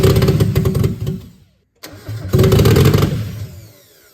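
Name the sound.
Mazda Miata 1.6 four-cylinder engine starting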